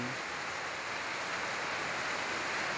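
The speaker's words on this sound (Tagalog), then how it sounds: "Ang lakas ng ulan." Heavy typhoon rain pours steadily in Dingalan, Aurora during Typhoon Paulo, a dense, continuous hiss of downpour with no breaks and no voices.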